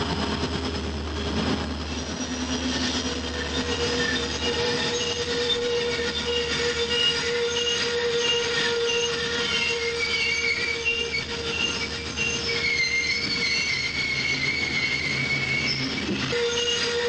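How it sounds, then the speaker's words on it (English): Southern Railway train rounding a sharp 11-degree curve on a steep mountain grade under dynamic braking, wheels squealing in steady high-pitched tones over a continuous loud rumble of rolling cars, with no talk. "To reduce the lateral or side forces on the outside rail, I ease up on the dynamic brake to 500 amps."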